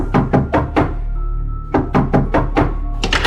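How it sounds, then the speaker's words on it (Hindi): Knocking on a door in a horror story, two loud rapid bursts of hard knuckle raps separated by a brief pause, close and sharp over a low background hum. "बाहर दरवाजे पर हो रही थी दस्तक"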